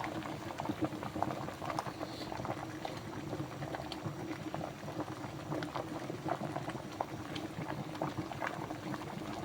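A pot of corn, cooked with its silk, boils on the stove in a soft, continuous bubbling and rolling simmer, heard up close but fairly quiet, with no voices.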